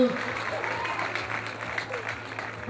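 Outdoor crowd on a town square in Polkowice claps for a women's basketball champion, a moderate, steady patter of applause with a little voice underneath.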